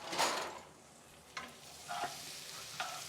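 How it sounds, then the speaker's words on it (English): Fresh corn kernels cut from the cob cooking in a pan, heard as quiet, close stirring scrapes and a light sizzle in a few short bursts, with no voices. "And then my corn, which is now all been removed from the cob, pop it in the pan and allow that to cook just for a little."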